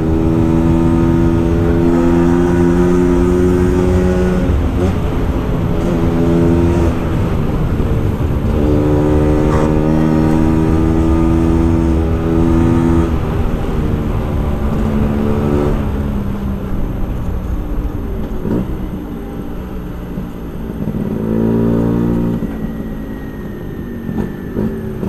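A Vespa racing scooter fitted with an AJS competition exhaust revs loudly and close, its engine note rising and falling in repeated throttle blips with a buzzy, harmonic drone throughout.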